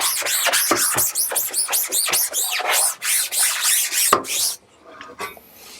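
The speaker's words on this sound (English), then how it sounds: "We're going to scrub it." A brush scrubs a silk screen coated with cleaning chemical in fast, loud rasping back-and-forth strokes, close up, before the strokes stop and only faint rustling is left.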